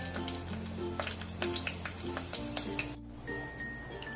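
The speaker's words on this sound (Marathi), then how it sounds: "आता आपण कढीपत्ता टाकूया." Curry leaves go into hot oil already holding cumin seeds and set off a steady, fairly quiet sizzle with scattered crackles and pops, heard up close with no talking.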